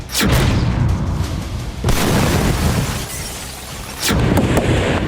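Three loud, heavy blasts boom out one after another, each followed by a deep rumbling roar that fills the gaps between them.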